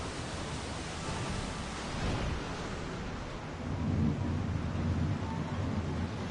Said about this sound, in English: that storm might be serious